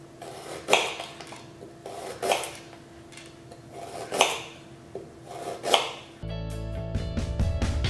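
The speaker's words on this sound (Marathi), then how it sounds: "आता जिंजरी कातरुया" A knife chops ginger on a board for Goan chicken biryani, giving a few spaced, crisp cuts at close range before steady background music takes over at the end.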